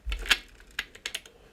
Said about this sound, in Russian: Он там может один щелчок пройти, но в итоге он все равно заблокируется.